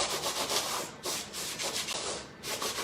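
A spatula scrapes carrot cake batter from a mixing bowl in steady, close rubbing strokes with brief pauses between passes.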